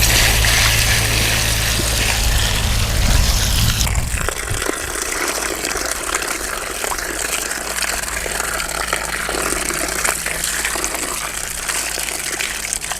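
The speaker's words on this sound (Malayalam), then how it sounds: "നമുക്കിത് നന്നായി കഴുകിയെടുക്കാം" Cauliflower is washed under running tap water, a loud, steady gush that softens and thins after about four seconds into a continuous splashing flow, with no talking.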